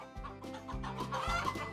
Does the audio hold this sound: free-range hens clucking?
yes